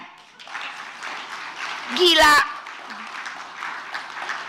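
Applause from the audience at a book launch, a broad and fairly soft patter across several seconds, interrupted midway by a brief loud spoken exclamation.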